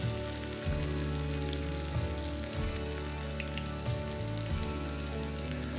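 A steady crackling sizzle of Korean zucchini pancake batter frying in hot oil in a frying pan fills the clip, close and continuous, with a low background hum and no talking.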